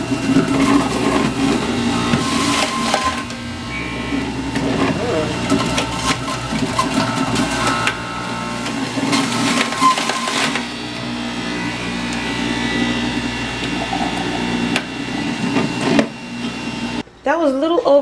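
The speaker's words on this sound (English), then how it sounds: "before putting it in your blender or your juicer, what you're going to do is cut your potatoes into small pieces just to make it easier to mash into the blades" Electric juicer grinding small potato pieces, a busy whirring and crunching motor noise that runs throughout with shifting intensity, ending in a brief wavering whine.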